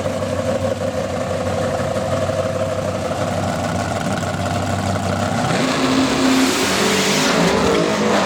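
Heads-up drag racing cars, including a Chevy Camaro and a Mustang, roar down the strip in a continuous loud engine blare that swells and rises in pitch toward the end.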